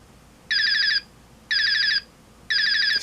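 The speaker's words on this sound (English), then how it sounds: "So here in just about 15 seconds the alarm should go off." Alarm of a Heathkit GC-1006 clock going off: a thin, buzzy electronic beeping in regular half-second bursts, three of them repeating once a second, moderately loud and close with nothing else over it.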